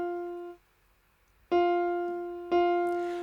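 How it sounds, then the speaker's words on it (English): Guitar notes played as quarter notes with a beat of silence: one sustained note fades out, a rest, then two more plucked notes at steady one-second intervals, each ringing clearly and alone. "Next, we're going to drop a rest into here."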